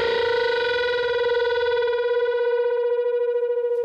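Single electric guitar note bent upward but falling just short of the target pitch, a sustained distorted tone with slight wavering that slowly decays, played alone.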